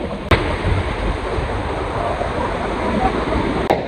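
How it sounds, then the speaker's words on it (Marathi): Waterfall at Tamhini Ghat roars steadily and loudly, a dense broadband rush of falling water close by, with two sharp clicks breaking through; no speech. "आम्ही ह्या पहिल्या वॉटरफॉल वर आलो आहे तामिनी घाटाच्या पहिल्या वॉटरफॉल वर"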